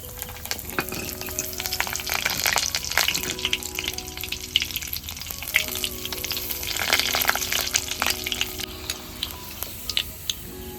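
Peanuts fry in hot oil in a home kitchen, a continuous close sizzle with crackling bursts and occasional stirring scrapes, no voices.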